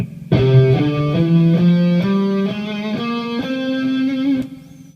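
An electric guitar plays a major scale with a flat sixth in single sustained notes, stepping steadily upward, one note roughly every half second, with no voices.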